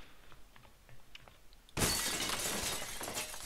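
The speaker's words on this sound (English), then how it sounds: "Oh no, have I got to shoot through that glass?" Glass shatters under gunfire in the video game Red Faction, a sudden loud crash bursting in after quiet background noise and trailing into a dense spray of falling shards.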